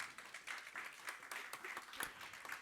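A church congregation applauds the Lord at a Spanish-language sermon on predestination, producing a dense, steady wash of crowd clapping that carries on throughout at moderate distance.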